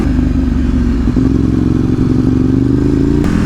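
A Ducati 848 EVO sport bike ridden along a canyon road, its engine droning loud and steady at near-constant revs, with thick wind rumble and no speech.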